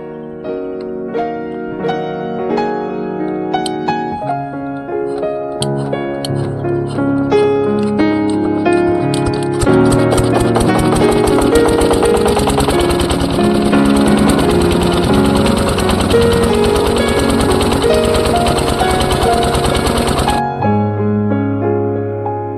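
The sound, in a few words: irrigation pump engine starting and running in paddy field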